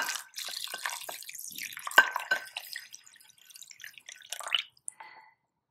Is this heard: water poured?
yes